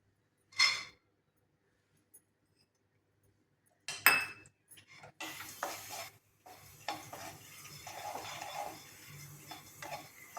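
Tender roasted sorghum (hurda) is tipped into a pan with roasted green chilies and stirred: a brief clatter, a quiet pause, then spoon scrapes, clinks and faint frying noise.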